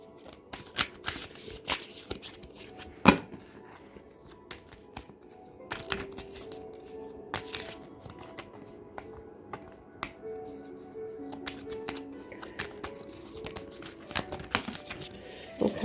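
Tarot cards are shuffled by hand in repeated bursts of riffling and flicking, with sharp snaps and soft slides that come close and clear, separated by brief pauses, and no speech over them.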